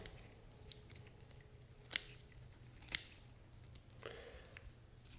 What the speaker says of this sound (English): we'll take our scissors and just cut this leg meat off the leg bone